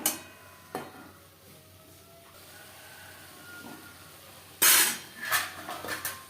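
Tomatoes with turmeric and salt being stirred in a pan for a tomato chutney, giving a faint bed of sizzle with a few sharp scraping bursts near the end.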